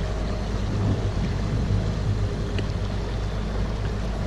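A motorboat idles slowly past people fishing at the corner of a no-wake channel near a public boat ramp, a steady low engine rumble mixed with wind noise, continuous and unbroken.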